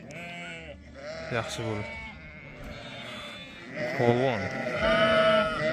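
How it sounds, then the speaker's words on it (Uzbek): Ewes with their lambs bleat repeatedly in a flock in spring, several loud wavering calls near and far, mixed with someone talking. "Bu yerda hammasi qo'zili qo'ylar, bolali qo'ylar"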